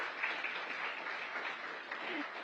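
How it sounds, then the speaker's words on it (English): Audience applause at a McDonald's Future 22 celebration at the Ritz Carlton, a dense, steady wash of clapping from a large crowd that holds even throughout. "Let's give a round of applause for that."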